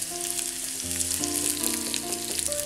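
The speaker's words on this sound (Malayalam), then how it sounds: "ഇതിലേക്ക് ഒരു വറ്റൽമുളക് രണ്ടായിട്ട് പൊട്ടിച്ചിടാം" Onion and a split dried red chilli frying in hot coconut oil for a green peppercorn chicken curry, a steady close sizzle with crackling pops, under a soft musical background and without talk.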